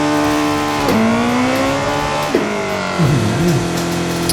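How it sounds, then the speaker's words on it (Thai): A front-wheel-drive Honda City GM6 with a swapped K24 turbo engine in Assetto Corsa, loud revving engine with pitch dips at gear changes and squealing tires from wheelspin, close and continuous. "มันเป็นรถขับหน้านะครับแล้วล้อมันจะฟรีเลยนะฟรีทิ้ง"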